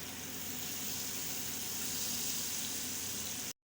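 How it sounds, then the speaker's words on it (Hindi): Tadka tempering sizzles in hot oil for a kofta chana curry, a steady soft frying hiss lasting a few seconds before cutting off abruptly. "तो आइए इसको तड़का लगा लेते हैं।"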